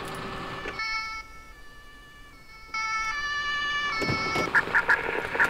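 An ambulance siren wails in the Emergency 4 video game with the Bieberfelde mod, a loud two-tone electronic wail that cuts in and out, ending with a few sharp honks.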